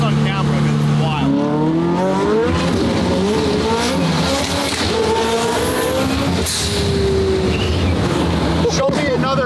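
A 1300 whp McLaren 720S GTR rear-wheel-drive race car roars loudly up through first, second and third gears, the engine note climbing and dropping with each shift, with voices over it.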